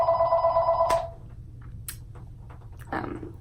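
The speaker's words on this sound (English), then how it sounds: "okay, my phone is ringing," A telephone bell rings loudly for about a second, its steady tonal ring cutting off abruptly, followed by quiet room tone with a few faint scattered noises.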